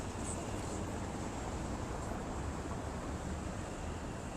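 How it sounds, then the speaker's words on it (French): Strong wind blows outdoors and buffets the microphone, a constant loud roaring rush that lasts throughout with no speech. "Il y a vraiment beaucoup de vent."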